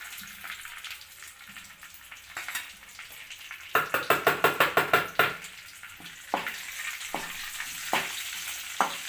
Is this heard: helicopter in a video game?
no